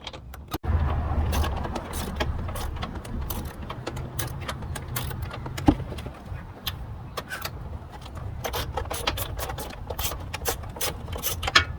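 Metal fasteners and tools clink and ratchet during removal of the back bolts from a fog light housing on a 2021 Ford Bronco Capable bumper, with irregular close clicks and rattles over a steady low hum and no talking.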